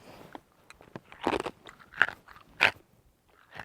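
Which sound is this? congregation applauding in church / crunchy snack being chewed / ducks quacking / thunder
crunchy snack being chewed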